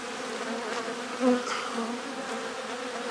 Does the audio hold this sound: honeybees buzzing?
yes